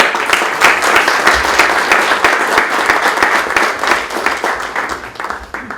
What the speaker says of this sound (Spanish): pido que le demos otro aplauso porque es merecedor de eso